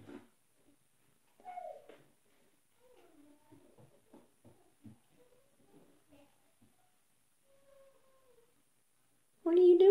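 A cat gives one short, wavering meow early on, fairly quiet, followed by a person talking softly to it, with a sudden loud burst at the very end.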